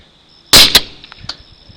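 Two sharp unsuppressed gunshots crack close together, the second fainter, followed by a brief metallic echo and quiet settling noise.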